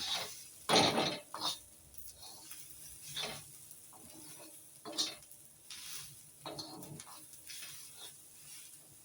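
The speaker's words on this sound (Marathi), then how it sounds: "आता हे मंद अचानक खोबरं चांगलं परतून घेऊ" Grated coconut sautéed in oil in a pan for a Malvani-style curry masala, with close stirring and scraping in uneven bursts over a soft, low sizzle, and no voices.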